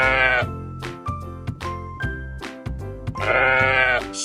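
Farm sheep bleat loudly in two long quavering calls, one near the start and one near the end, with a bouncy musical backing running throughout.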